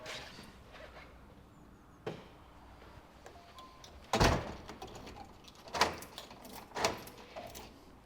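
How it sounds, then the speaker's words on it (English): Faint indoor clatter with a few sharp knocks, then a solid thud of a door shutting, followed by a couple more clicks and bumps. "switch the lights off, shut the door."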